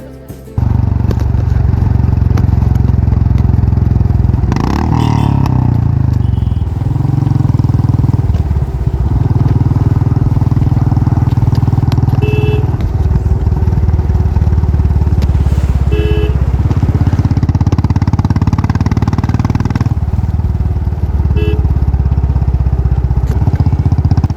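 Motorcycle engine droning steadily and loud throughout a long highway ride through forest on a family bike trip from Goa to Bengaluru via Dudhsagar Falls, with some clatter and wind, no talking.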